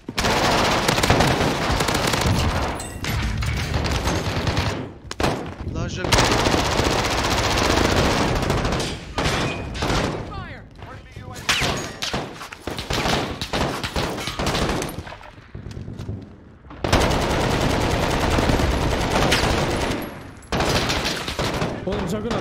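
Sustained machine gun fire from a Juggernaut in the Warzone video game, loud long bursts with brief gaps, mixed with other gunfire and explosions and occasional voices underneath.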